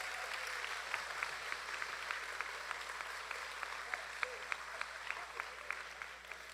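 Congregation applauding during a church worship service, a steady, fairly faint patter of many hands with scattered sharper claps, set against a low hum in the room.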